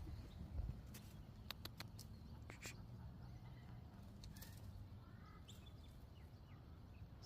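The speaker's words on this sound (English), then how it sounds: "So many birds in this suburb," Many birds chirp in suburban trees at dawn, scattered faint calls and short sharp chirps at a distance over a steady low background rumble.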